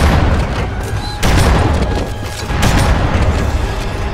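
Grenades explode in the shooter game Halo: Combat Evolved, two loud, booming blasts about a second and a half apart over a constant rumble of battle noise.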